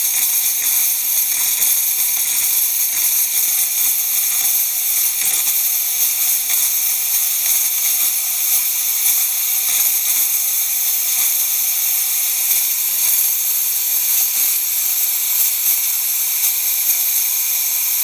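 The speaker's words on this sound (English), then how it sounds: "Alright, and now we'll do some steam." Steam wand of a DeLonghi ECO310W espresso machine, freshly repaired after a leak, letting out a loud, continuous, bright hiss that holds steady without breaks.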